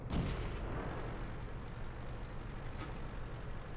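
Tank autocannon fire in World of Tanks, aimed at a Type 95 Ha-Go, opens with a sharp, booming blast and is followed by a rumbling decay, with a fainter second report later, heard near and loud without speech.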